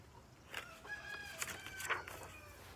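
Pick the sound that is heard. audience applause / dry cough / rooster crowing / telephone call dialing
rooster crowing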